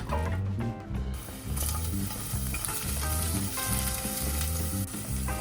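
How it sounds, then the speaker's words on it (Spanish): Chopped onion and ginger sauté in a hot pan with a steady, close sizzle that runs the whole time, under a layer of rhythmic background music. "Voy a poner a sofreír la cebolla junto con el jengibre."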